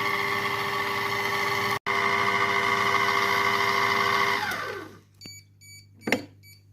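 A Compact Cook Pro M6 kitchen robot mixes egg into gingerbread dough at speed 4, its motor whirring loud and steady with a brief dropout, then winding down to stop, followed by a few electronic beeps.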